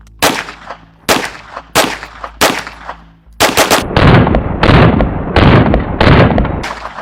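A CZ Scorpion direct-blowback submachine gun fires outdoors: four loud separate shots with short echoing tails, then a sustained rapid burst of close, sharp reports continuing to the end, very loud and with no talking.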